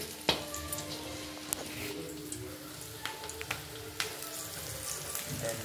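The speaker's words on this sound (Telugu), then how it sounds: "ఇప్పుడు కానీ నూనె కాగింది కదా, ఇలా వేస్తున్నానండి" Leafy ponnaganti pakoda batter dropped into hot oil brings a soft, low sizzle dotted with scattered pops and clicks, a few sharper crackles standing out, heard close and fairly quiet.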